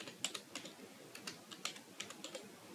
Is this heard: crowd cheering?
no